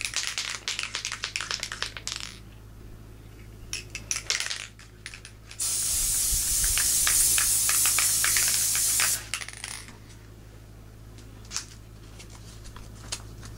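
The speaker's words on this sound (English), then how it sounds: "I'm going to go ahead and spray my stabilizer with some, just some spray glue" Spray glue hisses onto embroidery stabilizer in one continuous burst lasting a few seconds. Light handling clicks and rustles come before and after it, all close and fairly quiet.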